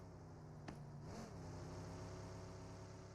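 In the mobile game PUBG Mobile, a car engine drones and revs as the vehicle approaches, fairly faint and steady, with a brief click and a whooshing pitch shift partway through.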